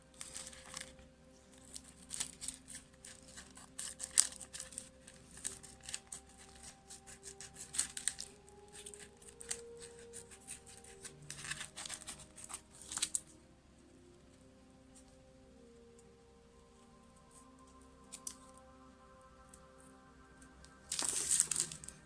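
Scissors snipping through a homemade paper sticker sheet, with crisp cuts and crinkling paper in scattered bursts, close up and fairly quiet, with no talking.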